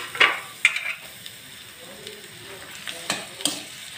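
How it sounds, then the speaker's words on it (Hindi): Small whole onions dropped into a kadhai with hot ghee give a few sharp clatters early on, then a low, faint crackle and sizzle with scattered pops. "ये प्याज मैंने जो 5 ली थी छोटी छोटी स्मॉल अनियन, ये मैं डाल दूंगी कढ़ाई में"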